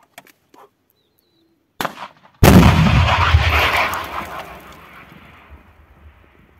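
Stugna anti-tank guided missile launched in combat, a single sharp, powerful blast followed by a roaring rush that fades over several seconds, preceded by faint quiet sounds.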